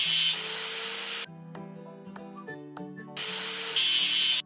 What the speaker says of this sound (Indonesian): Dan kini, ayo asah sambungannya.